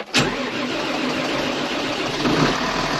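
A Massey Ferguson tractor's diesel engine fires up in icy cold with a sharp starting burst, then settles into a steady, loud running rumble.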